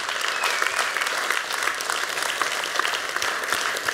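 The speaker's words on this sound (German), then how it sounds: "Also ganz großen Applaus" Loud, sustained applause from a large audience at a closing plenary of a digital-worlds forum, an even wash of many hands clapping with no break.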